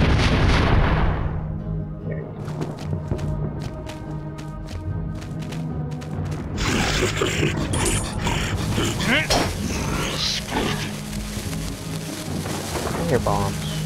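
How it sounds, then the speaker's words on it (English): Bombs explode in the video game Enclave: loud, rumbling blasts and crashing debris roll over a dense battle soundscape, with a player talking over the game audio. "I hear bombs."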